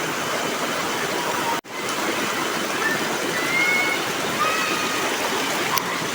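Water from a village spring flows in a steady, close rushing wash that drops out for a split second, then carries on with a few faint high whistles over it and no talk.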